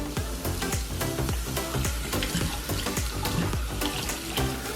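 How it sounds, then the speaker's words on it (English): A newly installed APPASO kitchen faucet runs water into a sink in a steady, close hiss and splash, continuous for several seconds with no talking. "So faucet on."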